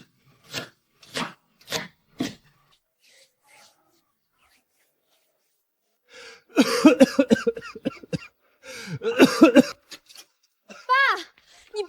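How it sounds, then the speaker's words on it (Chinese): A father recently out of hospital gives a few short, dry coughs spaced apart, then after a pause people speak together. "一点小咳嗽"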